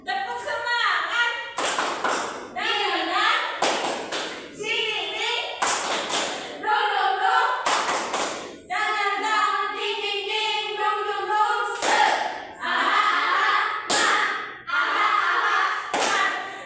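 A class chant clap led by a voice, with sharp sets of loud hand claps punctuating sung and spoken phrases, close up and rhythmic.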